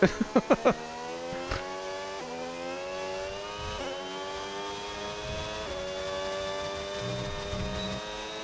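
An F1 car engine in the F1 26 racing game opens with a few sharp rapid blips, then holds a loud high whining drone that climbs in pitch through successive gear shifts.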